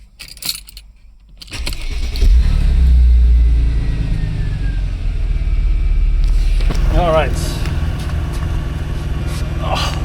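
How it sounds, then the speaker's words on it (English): A Mercedes SL R230 roadster's engine cranks and catches after keys jangle, then settles into a loud, steady idle close by, with a brief spoken remark near the start. "So engine started."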